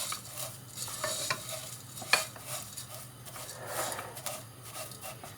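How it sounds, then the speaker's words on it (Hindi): Raw vermicelli roasting in hot oil over low to medium heat for sweet seviyan: a soft, steady sizzle with gentle stirring scrapes and one sharp utensil clink, fairly quiet and close. "अब ऑयल गर्म हो गया, अब इसमें ये सेवइयाँ डालेंगे। इनको इधर ही 2-3 मिनट के लिए भूनेंगे"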